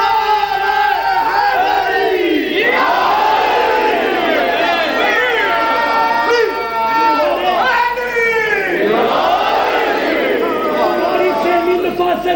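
A large crowd at a religious sermon gathering roars a chanted slogan in unison, loud and sustained, with a swelling second wave of voices near the end.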